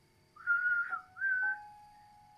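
Two sustained whistled notes from Link in Breath of the Wild, each held about half a second with a slight downward bend, close and clear over a faint low rumble.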